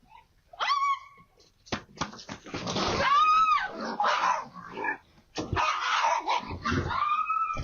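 A dog whimpers in high, wavering whines and gives short growls, mixed with scuffling and other noises. The sounds come in close, loud bursts with brief pauses between them.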